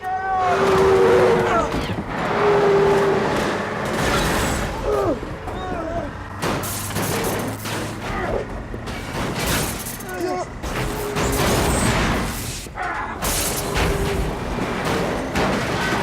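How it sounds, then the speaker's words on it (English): A stunt bus drives through a town set and smashes into a construction site, loud rumbling engine and repeated heavy crashes, bangs and shattering debris, with bursts of impact noise spread across the scene. "This is when the bus comes driving through the town and then crashes through a construction site."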